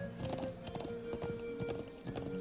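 Horse hooves clip-clopping in the video game Trails of Cold Steel, a quick steady trot of close, crisp hoof hits over a faint sustained musical tone, with no talking.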